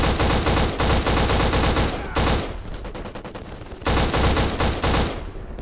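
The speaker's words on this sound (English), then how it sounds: "who else is shooting at me?" Gunfire fills Black's first mission as loud, dense bursts of automatic shooting come in two heavy waves separated by a quieter stretch of lighter, rapid shots.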